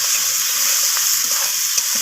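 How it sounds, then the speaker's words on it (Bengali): Bhetki fish curry with spices stir-fried in a pan, making a loud, even hissing sizzle that holds steady for the whole stretch with only a faint stirring tick. "তো সমস্ত কিছু আবারও কষিয়ে নিচ্ছি"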